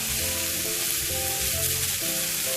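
Sliced pork belly, about a centimetre and a half thick, frying in its own rendered fat over gentle heat, giving a loud, steady, continuous sizzle with faint crackles throughout and no talk.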